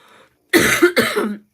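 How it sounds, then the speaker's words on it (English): Two harsh, loud coughs in quick succession, close to the microphone, with a brief pause between them. "I'm sorry, I'm gonna cough a lot."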